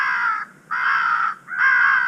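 Harsh crow caws from an electronic caller playing a crow fight call during a crow hunt, three loud, close bursts separated by short gaps.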